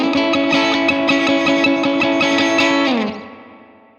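A distorted electric guitar chord through a Line 6 Helix mid-gain preset rings out with rhythmic picking, thick with spring reverb, then the chord is released and a reverberant tail fades away.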